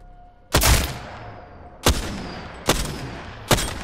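Four loud, close shots from the Triple Take sniper rifle in the Apex Legends video game, irregularly spaced, each a sharp crack with a booming tail that fades into the next, no talking.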